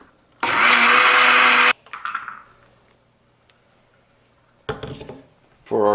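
A blender purees pickled cucumber, jalapeno and red onion marinated in vinegar and lime juice, roaring loudly for about a second before winding down, then short bursts of clatter and a brief restart near the end.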